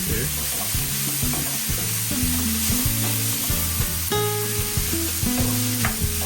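Onions being sautéed in a pan for a Tamil beetroot curry, a close continuous sizzle with stirring scrapes under background music.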